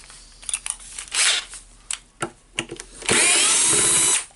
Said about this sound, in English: we need to unscrew this screw here